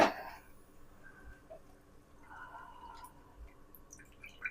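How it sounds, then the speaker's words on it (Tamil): Faint trickling and dripping water as soaked biryani rice is drained, quiet and close, with a few soft splashes and no voices. "அரிசியை தண்ணி வடிகட்டிட்டு"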